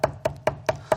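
A kitchen knife minces squid on a cutting board, striking with its tip. Five crisp, evenly spaced chops land close and loud at a brisk, steady rhythm.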